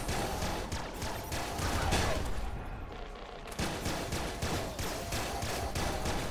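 Laser pistol with an explosive-shot mod firing in Nuclear Throne, a dense, continuous barrage of loud blasts and booms with a brief lull midway, then rapid repeated shots resuming.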